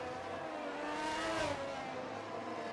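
Several race cars fly past together during a Hungarian Grand Prix in a racing video game, their engines a continuous whining roar that swells toward the middle and then eases off, with no voices over it.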